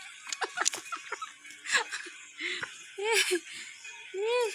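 A chicken clucks and squawks in short bursts close by, mixed with quiet human sounds.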